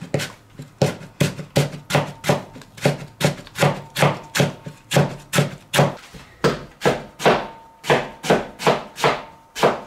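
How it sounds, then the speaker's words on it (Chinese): A knife chops green radish into shreds on a cutting board, giving about two dozen crisp, evenly spaced knocks in a steady rapid rhythm, loud and close, with no talking. "萝卜切成片之后，改刀给它切成丝。"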